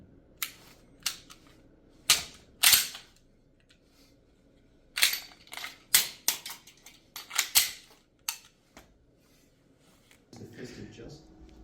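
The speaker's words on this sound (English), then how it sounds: "Correct malfunction on an M17." An M17 pistol being handled to clear a malfunction, with sharp metallic clicks and clacks of the slide and parts in irregular bursts, close up, ending in a softer rustle.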